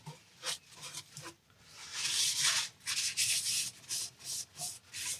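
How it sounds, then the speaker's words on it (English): Sealer is rubbed by hand onto a laburnum wooden bowl turning on a lathe, a steady scratchy rubbing in bursts with short pauses between strokes, close and fairly loud. "This is just a sealer I'm putting on just to protect the wood."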